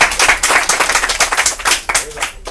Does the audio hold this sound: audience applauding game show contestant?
yes